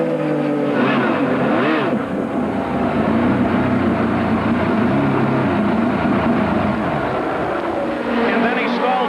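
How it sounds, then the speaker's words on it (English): IndyCar race car engine at a 1995 Indianapolis 500 pit stop, droning loudly and steadily with rising and falling revs beneath continuous commentary and crowd noise before it stalls. "Listen very carefully to the engine."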